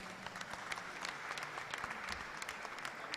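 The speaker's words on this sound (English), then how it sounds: "Please, a round of applause for them." A round of applause from the audience at a Nigerian leadership gathering with a U.S. presidential advisory council, dense and even clapping sustained throughout a short stretch, moderately distant.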